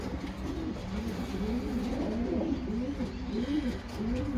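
Racing pigeons coo in a loft, giving repeated low, rolling warbles that overlap steadily over a constant background hum, close and moderately loud.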